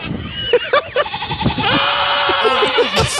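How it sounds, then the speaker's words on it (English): Small pygmy goats let out loud nearby bleats, a run of short wavering cries that ends in a longer drawn-out call, over steady background noise. "These goats fail at being goats."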